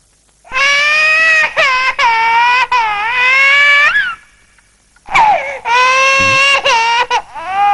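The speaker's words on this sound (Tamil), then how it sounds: "ஏன் குழந்தை அழுகுது" An infant wails loudly and close by in two long bouts of sobbing cries, separated by a brief pause, with shaky, rising-and-falling pitch.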